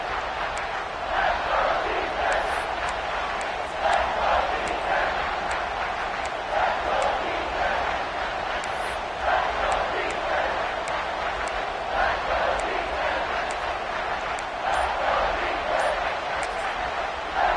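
A stadium crowd at an NCAA football game roars as a loud, sustained wash of noise that stays steady throughout, with announcers talking over it.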